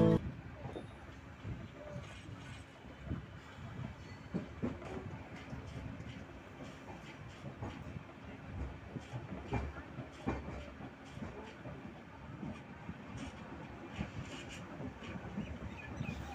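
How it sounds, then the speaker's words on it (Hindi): Faint, steady rumble and rhythmic clatter of the Mourya Express rolling into Muzaffarpur Junction, heard from inside the moving train with no talk over it. "अब हमारी ट्रेन मुजफ्फरपुर जंक्शन पहुंच रही है।"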